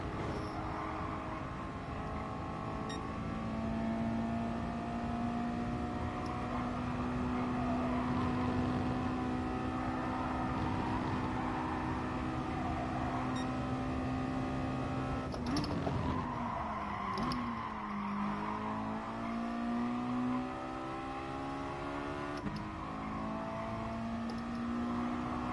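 Race car engines drone continuously in the driving game Gran Turismo Sport, a steady loud whine with pitch sweeps as cars shift and accelerate, no talk.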